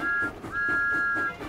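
Whistle blast in a French-dubbed Thomas the Tank Engine cartoon: a steady high whistle tone sounds twice, a short burst then a longer sustained one, over busy cartoon music and background sound.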